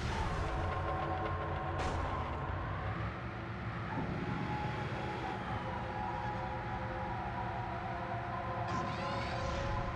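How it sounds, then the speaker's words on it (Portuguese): A wailing ambulance siren in the PS2 car-combat game Twisted Metal: Black sustains throughout, layered over steady engine rumble and game noise with no voices. "Porra de ambulância."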